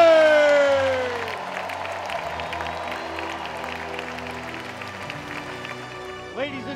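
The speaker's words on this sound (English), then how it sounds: "Ladies and gentlemen, a big round of applause for the 2018 Spartan basketball senior class." A crowd applauds a 2018 Spartan basketball senior class, steady clapping and cheering filling the arena loudly at first and then settling into a sustained roar, with a tonal note fading at the start.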